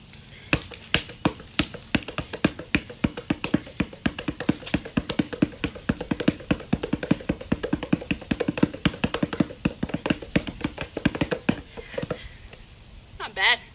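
A basketball is dribbled rapidly in a spider dribble drill on an indoor floor, producing a steady run of quick, close bounces for about twelve seconds before stopping.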